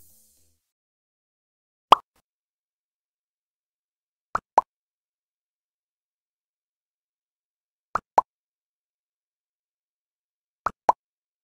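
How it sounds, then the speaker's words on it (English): Cartoonish pop effects from a stock sound library play as isolated, crisp plops against silence: a single pop first, then three quick double pops spaced a few seconds apart, close and clean. "let's choose a sound from the pop subcategory"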